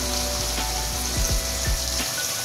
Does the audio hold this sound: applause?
no